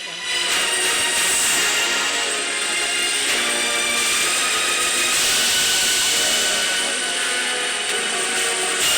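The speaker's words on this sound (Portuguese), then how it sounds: "Helicóptero agora." Helicopter in the naval combat video game Modern Warships: a steady mechanical rotor whir with a whining turbine tone, loud and continuous throughout with no talk.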